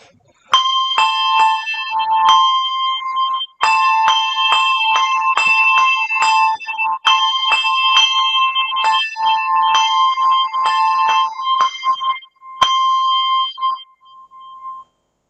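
Handbells play a melody loudly and expressively, ringing bright and sustained with overlapping tones and short breaks between phrases. A few handling knocks come through, and no voices are heard.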